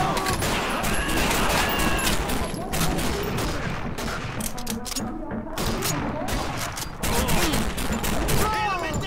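MG42 machine gun in the World War II shooter Call of Duty 2 rattles in dense, continuous bursts, with other gunfire and battle noise around it, loud and close throughout.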